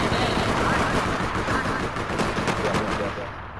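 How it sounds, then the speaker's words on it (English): Rapid gunfire in a Chicago police roleplay game during a hostage situation: dense, loud bursts of shots and chattering automatic fire continue almost without pause, tapering slightly at the end. "I believe I got a good shot on one of them."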